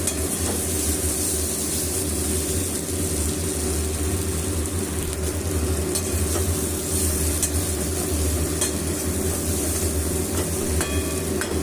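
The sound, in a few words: stirring fried bitter gourd and pumpkin in a pan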